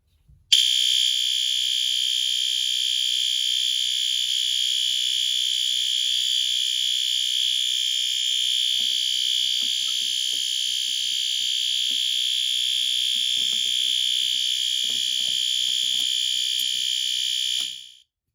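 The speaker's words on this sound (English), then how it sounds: "This alarm is quite loud" A fire alarm sounds during a system test: one loud continuous tone that runs without a break for about seventeen seconds, then stops abruptly. Faint rustles and handling noises sit beneath it.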